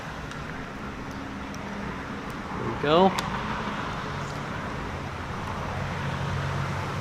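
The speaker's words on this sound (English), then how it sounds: "Sorry about the road noise." Steady road traffic noise rumbles in the background outdoors, a constant low wash of passing vehicles, with a brief squeak and a short spoken phrase over it.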